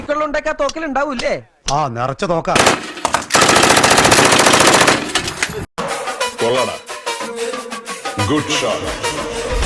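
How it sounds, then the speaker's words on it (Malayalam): Loud, rapid crackling bursts of firecrackers going off in a dense string on Eid eve in Kochi, with people talking before and after. "എന്തിനാ ആളുകൾ പടക്കം പൊട്ടിച്ചേ?"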